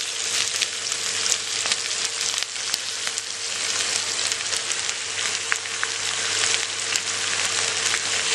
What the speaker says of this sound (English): add onions and fry the onions until it turns light golden brown